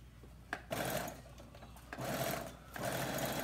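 Sewing machine stitching along the edge of an Ankara fabric scarf, heard close in three short runs with brief pauses between them.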